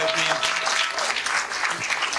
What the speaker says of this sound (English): A big applause to the students